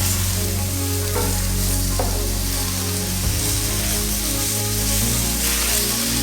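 Lamb sears in a hot pan for a curry, giving a loud, continuous close sizzle with a low steady hum underneath. A few soft scraping stirs appear as the meat is moved around, and no one speaks.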